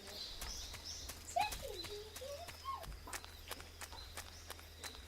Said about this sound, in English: I hear the birds. I see them hopping around.